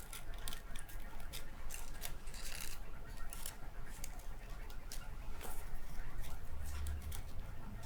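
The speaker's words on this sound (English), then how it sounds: "I decided it was a bit more efficient to just cut a strip and then pull them apart" A strip of crepe paper is cut with a machine, giving a run of short, sharp snips and crisp paper rustles close up, steady over several seconds.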